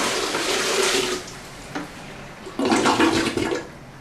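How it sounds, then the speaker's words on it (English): A bucket of water is poured into a toilet bowl in two loud gushing surges with a softer trickle between them, close by, setting off a flush-like rush and no talking. "Here's a bucket of water. Okay, so I'm just going to pour this down there."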